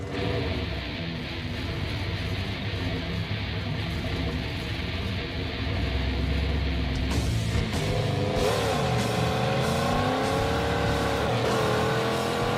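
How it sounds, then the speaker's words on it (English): A Pontiac Trans Am on a drag-strip test run roars continuously at full throttle, its engine note rising and sweeping repeatedly as the slipping clutch spins through each gear. "Yep, that was spinning the clutch through every gear."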